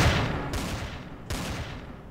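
Gunfire in the space survival game Empyrion: two sharp, loud shots about three-quarters of a second apart, each followed by a short ringing tail, over a dense background of game noise.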